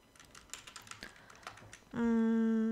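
Quick, light clicks of typing on a computer keyboard, then a loud sustained tonal hum abruptly takes over.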